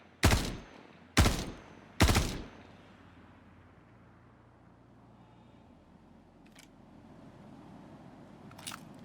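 Gunfire in the video game Star Citizen at a derelict outpost in extreme weather, three loud evenly spaced shots followed by a low ambient rumble, and two fainter sharp cracks come later, with no talk.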